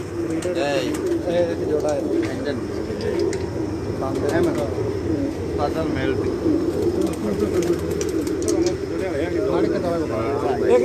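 Breeder pigeons coo in a rooftop loft, soft repeated throaty calls overlapping steadily at close range, while people talk nearby throughout.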